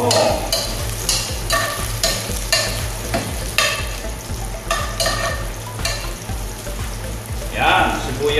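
Garlic frying in a hot pan while being stirred, a continuous close sizzle broken by repeated scraping strokes of a utensil.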